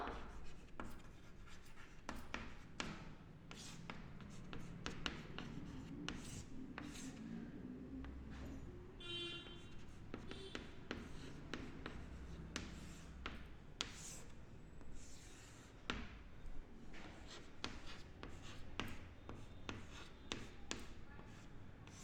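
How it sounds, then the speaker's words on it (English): Chalk or pen scratches and taps in quick, irregular strokes as a truth table is written out by hand in a classroom, faint and close, with no voices. "I'll write the truth table here."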